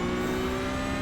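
Race car engine in the iRacing sim, driven on a time-attack run, holding a steady, loud, buzzing drone with a smooth whir and no talk.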